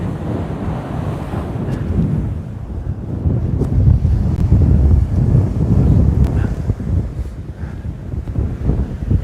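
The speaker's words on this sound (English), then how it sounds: "Marceau, walking into the wind." Wind on the coast during a fishing outing, heard while walking into it, a heavy roaring gust that buffets the microphone with low rumble and surf-like wash, loud and steady, no talk.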